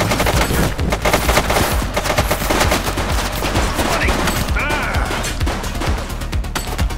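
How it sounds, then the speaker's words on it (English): Dense, loud automatic gunfire from a shooter in the police game The Precinct, rapid bursts crackling continuously with heavy impacts and close, overlapping shots. "He's shooting!"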